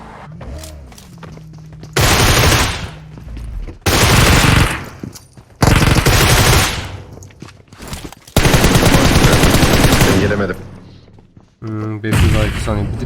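Loud automatic gunfire in a PUBG Mobile match, with several long, close bursts of enemy fire separated by brief pauses and a player talking in between.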